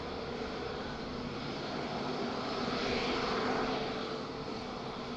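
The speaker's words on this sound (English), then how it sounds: "Talking about Azores, here we go. SATA, pure livery." A SATA Azores Airlines turboprop in pure livery at Madeira Island Airport, a continuous engine and propeller drone that is fairly distant and steady, rising gently before easing off.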